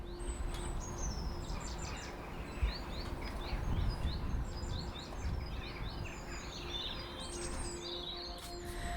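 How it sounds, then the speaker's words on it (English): Several birds sing and chirp in a garden, with repeated bright tweets and trills over a soft outdoor background hum. "I've just been sat in my garden listening to the birds singing."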